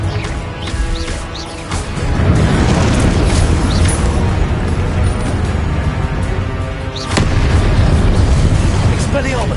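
Confringo fire-blast spell from Hogwarts Legacy, loud booming explosions with a rumbling roar that swells and repeats, layered over continuous dense combat noise.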